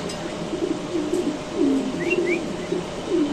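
Mundian fancy pigeons give repeated low, rolling coos close by, in soft overlapping phrases with a few faint higher chirps over steady background hum.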